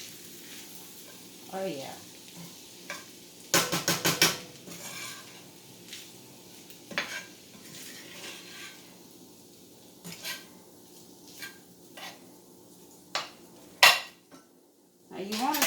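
Rice and seasoning get stirred into onions in a pan, with sharp metallic clanks and scraping of the spoon against the pan in irregular bursts over a faint sizzle; a voice briefly speaks.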